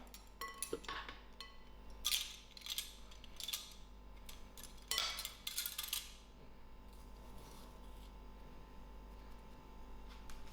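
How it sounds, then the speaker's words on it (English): Flour and bicarbonate soda being stirred together in a bowl for chocolate chip cookies, soft scattered clinks and taps of a utensil against the bowl, quiet and close, in bursts that fade to stillness. "I will mix the flour and bicarbonate soda together."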